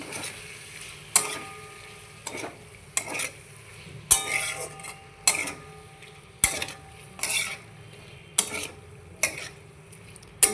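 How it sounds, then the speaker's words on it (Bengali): A spoon scrapes around a pan of boiled bottle gourd with a little salt. About ten distinct stirring strokes come at a loose, regular rhythm, close and clear, with a faint sizzle between them and no talking. "ভালো করে নাড়াচাড়া করে নেব।"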